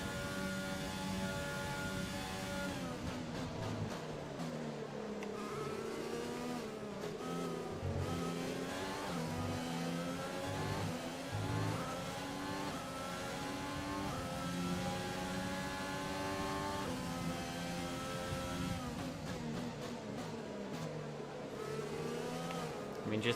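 Formula 1 car engine in the F1 2020 racing game, a continuous high whine that climbs and drops through gear changes on a Mexico, Brazil or Abu Dhabi race, fairly loud throughout with a few faint voices.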